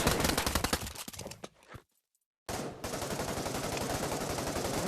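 Loud shotgun blasts in the Pavlov VR shooter come as a rapid run of close booming shots, then a short silence, then the firing picks up again without pause.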